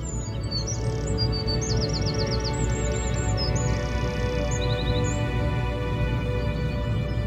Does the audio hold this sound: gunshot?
no